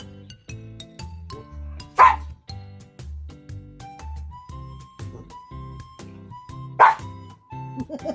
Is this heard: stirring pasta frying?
no